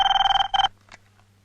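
A telephone rings loudly and close by with a rapid electronic trilling bell in two bursts, then stops, followed by quiet room tone.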